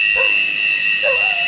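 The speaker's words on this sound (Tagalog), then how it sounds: "Doon nang galing sa kanila yung boses ng aso na narinig namin." Two short, thin yelps from a dog on a mountain sound about a second apart, faint against a loud, steady high-pitched electronic whine.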